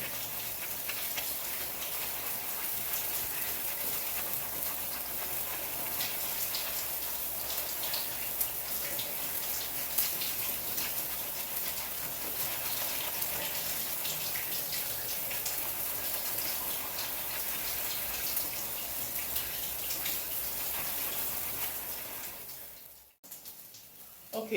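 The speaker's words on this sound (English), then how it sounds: "Okay, so I'm rinsing this off after the second shampoo." Water runs steadily from a tap or shower while shampoo is rinsed out of hair, a constant close rushing spray that continues almost unbroken before cutting off near the end.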